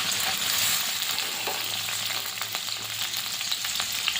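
Carrots and other hard vegetables fry in a pan for street-style chowmein: a loud, steady close-up sizzle with scattered scraping and stirring clatters, and no talking.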